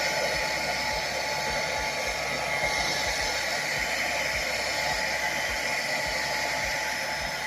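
A hair dryer blows steady, loud airflow to heat a small foam piece during a latex mask repair, running continuously with an even, broadband whoosh and faint low thumps beneath.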